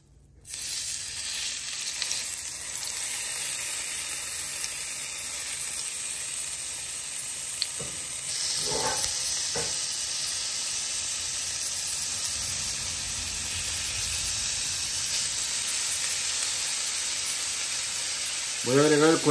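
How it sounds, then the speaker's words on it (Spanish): Chorizo frying in olive oil in a frying pan gives a steady, close sizzle and hiss throughout, with a brief clatter or stir partway through and a louder burst at the end. "Voy a agregar aquí el chorizo."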